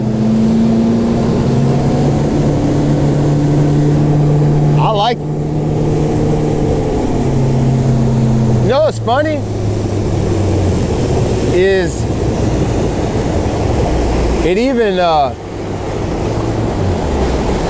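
A Falcon boat's engine fitted with a new, better-balanced prop runs steadily and loudly on the water, with brief rising surges as the throttle is worked, while someone talks over the engine noise.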